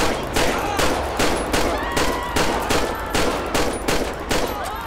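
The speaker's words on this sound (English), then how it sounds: "shots fired, shots fired" Rapid gunfire in GTA V with the LSPDFR police mod: evenly spaced, loud bursts of shots repeating about every half second, a steady volley throughout.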